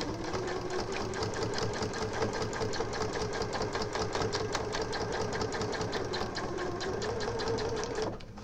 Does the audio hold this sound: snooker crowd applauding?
no